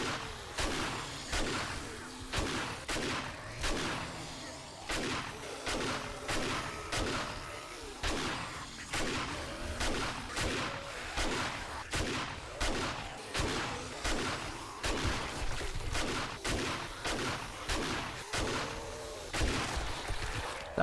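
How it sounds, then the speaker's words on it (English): Rapid gunfire rattles through a 7 Days to Die firefight against cops, with dense, continuous shots that pulse over a constant din of battle noise at a moderate distance, unbroken for the whole stretch. "Can't even see who I'm shooting at now."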